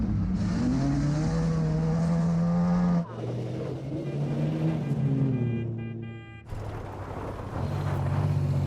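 Race cars running on an Alaskan ice track, engines droning loud and close with rising and falling pitch, one car roaring past midway through with a brief dip before the engines swell again.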